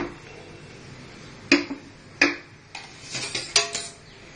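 Metal spoon clinks and scrapes against a cooking pot while red masala is stirred into chicken curry, a few sharp knocks spaced apart, then a quicker cluster of taps, close and fairly clear over a quiet background.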